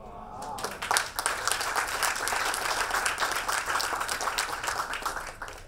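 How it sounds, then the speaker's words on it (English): Audience applause after a talk, a steady wash of many hands clapping at moderate volume that continues throughout with slight swells, some voices faintly underneath. "Wonderful round of applause for Lingesh."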